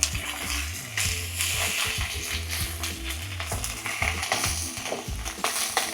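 Fish sizzles and spits in hot oil in a pan, a steady loud frying hiss broken by clatters and scrapes as the pieces are turned, with no talking.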